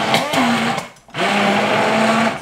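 An electric hand blender whirs through a sauce in a home kitchen, a loud buzzing motor whine that cuts out for a brief moment midway, then resumes at full strength.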